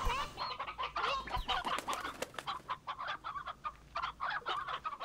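Chickens in the Slime Rancher video game cluck in a busy chorus of short, overlapping calls, close and fairly clear, with a few longer squawks mixed in and no talking.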